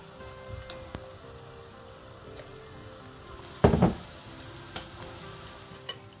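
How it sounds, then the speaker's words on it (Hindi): Pakoras frying in hot oil for kadhi pakora, a soft steady sizzle with a louder burst of crackling partway through as batter drops into the oil, then settling back to a low background fizz. "अब हम इसमें पकौड़े बना लेंगे।"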